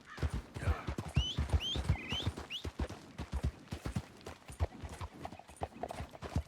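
Steady clip-clop of horse hooves at a trot in Red Dead Redemption 2, with a couple of whinny-like calls early on, fairly close and continuous throughout.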